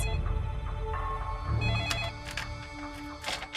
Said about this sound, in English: their room phone rings